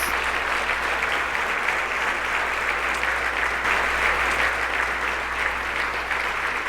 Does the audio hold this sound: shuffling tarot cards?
no